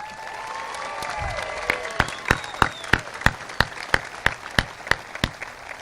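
Graduation audience applause at Triton High School, 2018, starting as a diffuse crowd wash with a few whistles, then settling into loud, rhythmic unison clapping, evenly spaced claps close by.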